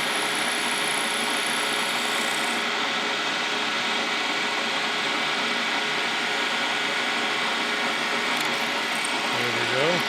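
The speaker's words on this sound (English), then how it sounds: "I'm going to drill that all the way through" A drill bores through a Case steam engine governor spool valve stem held in a vise, producing a steady, even whine and grind that runs without a break, with a voice briefly heard near the end.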